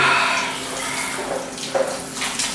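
Shower water runs in a continuous hiss with soft splashing as the spray hits surfaces, strongest at the start and then settling into a steady stream with a few brief spattering bursts.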